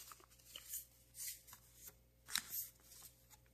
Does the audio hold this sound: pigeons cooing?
no